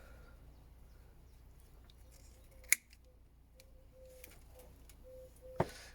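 A single crisp snip of pruning scissors cutting back a circling bonsai root at an angle during repotting, followed a few seconds later by a second sharp cut, both close and distinct over quiet background.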